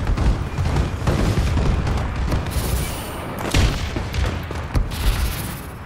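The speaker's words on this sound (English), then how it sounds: "Friendly bombing run incoming." Explosions from a friendly bombing run in the Call of Duty: Advanced Warfare video game, a dense roll of heavy booms and rumbling blasts with sharp bursts punctuating the continuous low thunder, loud and close.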